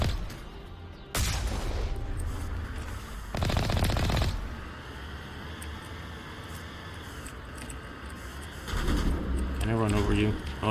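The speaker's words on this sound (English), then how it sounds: "We'll just shoot him out this time" Rapid bursts of automatic gunfire crackle in the Mass Effect game, with loud volleys around one and three seconds and again near the end, separated by steady combat ambience, and a voice briefly speaks at the close.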